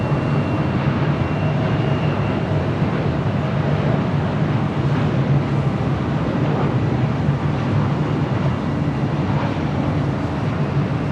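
Steady broadband roar of an airliner on a four-mile final approach to land on runway 24 right at LAX, heard at a distance over wind buffeting the microphone, with a faint low hum and no talking.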